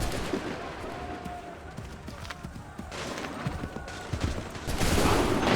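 In Assassin's Creed III, musket volleys crack out in the field amid a busy battle din, loud and layered, with shouted commands over the fire.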